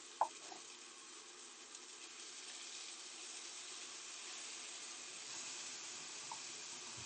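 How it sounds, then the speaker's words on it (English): Tap water runs into a frying pan while cooking Louisiana linguine, a steady faint hiss of flowing water and steam with a small clink at the start. "I might need to add a little bit of water just to pick up that."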